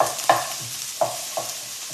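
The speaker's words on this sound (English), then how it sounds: "the second you put onions in the oil, oh, I love it." Onions frying in hot oil for a tuna pasta, with a constant close sizzle broken by several distinct stirring knocks and scrapes at uneven intervals, no speech.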